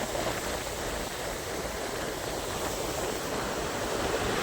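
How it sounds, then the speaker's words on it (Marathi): The Panjhara river runs swiftly after rain, a continuous dense roar of rushing water filling the scene evenly from start to finish, with no voices over it. "कितीतरी दिवसांनी आमचे पाझरा नदी अशी खळखळताना दिसते."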